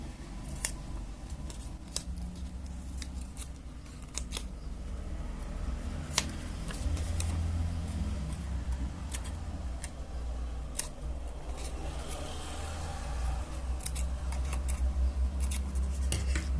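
Scissors trimming paper for a craft figure, a steady series of sharp close snips and clicks scattered over a soft room hum, with no talk.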